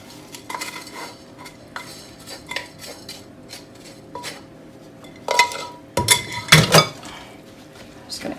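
Quinoa added and stirred into an apple banana breakfast cup mixture: soft scraping and clinks of utensils against a bowl, growing into a few louder knocks and scrapes near the end.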